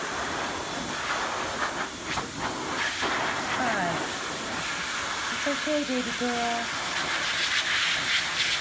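A blow dryer hisses steadily while drying an Exotic Shorthair cat, a continuous airy rush running through the whole stretch, with someone speaking softly over it and brief whistling tones near the end.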